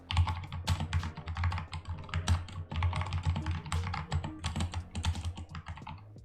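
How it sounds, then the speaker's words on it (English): Rapid, steady clacking of keys on a mechanical keyboard with Cherry MX Brown switches, close and fairly loud, with no voices. "I'll unplug the keyboard and type out a little bit."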